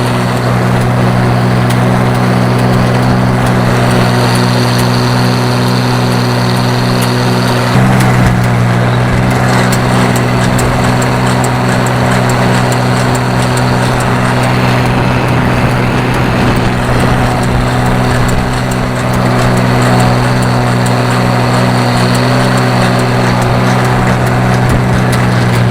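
An Oliver 1800 tractor pulling a 129 haybine mows hay, its engine holding a loud, steady drone throughout with constant harmonic hum and mechanical clatter from the cutter, close and uninterrupted.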